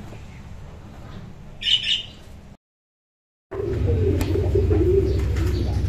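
Fancy pigeons for sale in a Lahore loft give soft low coos and a brief squawk over steady background noise, with a short silent gap before the cooing resumes louder and denser.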